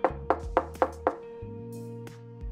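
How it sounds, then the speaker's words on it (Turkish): Five evenly spaced knocks on a door ring out loud and close over a sustained musical backing in a Turkish animated Barbie fairy tale, with the music continuing after the knocking stops. "Tam o sırada yine kapı çalmış."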